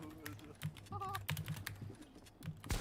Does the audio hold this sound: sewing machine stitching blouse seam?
no